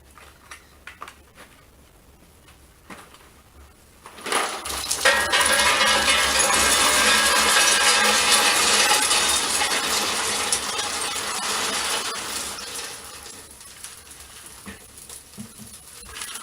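Anthracite coal poured from a bucket into a DS Anthra-Max stove makes a dense, rattling rush of clinking lumps that lasts about eight seconds, after a few scattered clinks and scrapes, then tapers off.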